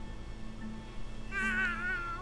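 A cat in the South Park: The Fractured But Whole game lets out a single wavering meow near the end, over a low steady game background.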